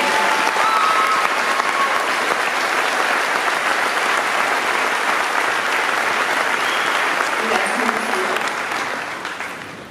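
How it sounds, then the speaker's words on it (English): Sustained, loud applause from a large crowd at a high school graduation ceremony, holding strong for ten seconds before beginning to taper at the end. "Please applaud these young men and women for their accomplishments."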